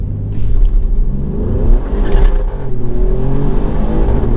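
A 2024 Alfa Romeo Giulia Quadrifoglio launches from a stop on a mountain road, its engine building into a loud, continuous revving roar and deep rumble that holds steady throughout, with no voices.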